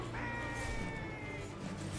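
A bird enemy in the video game It Takes Two gives a harsh, drawn-out cawing cry during a boss battle, heard under dense game sound.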